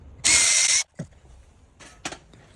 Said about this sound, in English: I'm just going to drill it until we can see a little mark on the other side